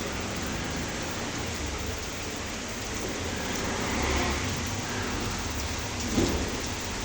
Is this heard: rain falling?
yes